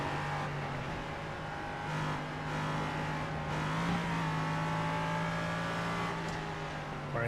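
A sports race car at Lime Rock, its engine humming steadily as it runs uphill under modulated throttle, a continuous loud drone with small rises and dips, no talk over it.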